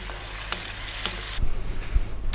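South Indian fish curry simmers and sizzles in a pan, with a few soft scrapes of a gentle stir breaking through the steady bubbling hiss.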